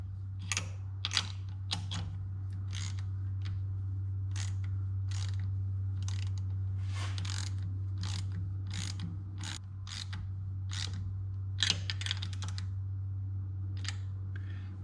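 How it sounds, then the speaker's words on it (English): A metal fuel fitting being threaded into a jet ski's fuel system, giving a run of quick, faint ratcheting clicks in irregular bursts over a steady low hum. "we are now threading in the first fitting"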